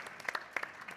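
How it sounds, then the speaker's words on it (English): A small audience claps at a women's leadership event, brief and sparse, a handful of distinct claps scattered over about a second at fairly low volume. "Let's give a round of applause to the men"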